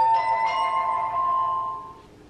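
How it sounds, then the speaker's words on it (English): A mobile phone ringing indoors with a steady tonal chime that holds for about two seconds and then fades, moderately quiet against a faint room hum. "And that's my phone."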